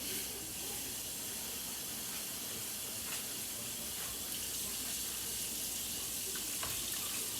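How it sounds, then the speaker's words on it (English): Tap water runs steadily into a pot of broccoli, filling it toward the top as a continuous, close, even hiss and splash lasting throughout, with no talking. "So I'm going to put water up to the top of, you know, to the top of the broccoli"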